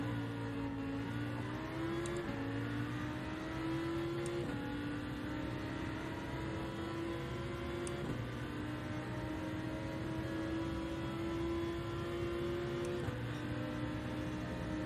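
Lamborghini race car in a racing video game, its engine holding a steady, moderately quiet drone whose pitch climbs and steps with gear changes throughout.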